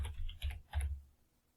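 A few keystrokes on a computer keyboard while entering a command in MATLAB, three soft, close taps in quick succession that fade into quiet.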